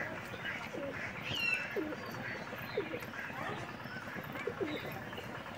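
Soft, intermittent cooing from Madras pigeons inside a loft in Kolkata, several short throaty calls spread across a faint, hissy background, with a higher chirp or two mixed in.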